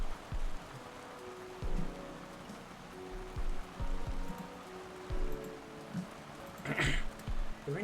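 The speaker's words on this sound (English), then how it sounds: "The rain is oddly soothing, though through the violent chaos of the droplets, it's still beautiful." Steady rain falls in the video game Psychopomp Hospital, a continuous wash of droplets with intermittent low thumps and a brief brighter splash near the end, no talking.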